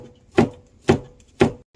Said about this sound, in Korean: 청양고추를 잘라줍니다.